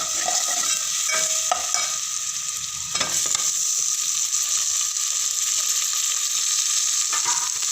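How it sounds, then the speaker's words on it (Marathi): Tomatoes tossed into a pan of frying ginger-garlic paste and stirred, giving a steady bright sizzle with scraping, clicking spoon strokes against the pan, close and continuous with no talking. "आता टोमॅटो टाकूया."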